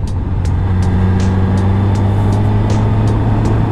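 Suzuki GSX-R motorcycle riding into a curve, its engine a steady, loud droning hum with a constant low tone and faint periodic ticks, no talking.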